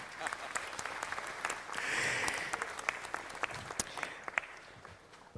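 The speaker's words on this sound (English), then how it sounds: "give Friday a round of applause for everybody who gets the weekend off." Applause rises at a city council meeting, many hands clapping in an irregular patter with crisp individual claps standing out, swelling briefly and then thinning toward the end.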